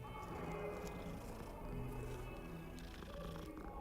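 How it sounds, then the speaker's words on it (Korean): A cat in the video game Hogwarts Legacy purrs in a low, continuous rumble, faint and close, layered under soft game ambience with a few light clicks. "그르릉거리네."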